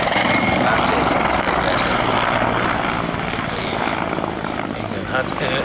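Heavy armored military helicopter flying at the Kecskemét air show, a loud continuous rotor and turbine roar with broad, steady noise that eases slightly toward the end.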